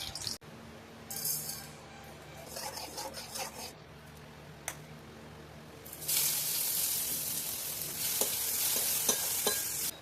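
Fish fries in a wok, a close sizzle with stirring and scraping that swells louder and hissier in the second half, with occasional clinks of utensils; no voices.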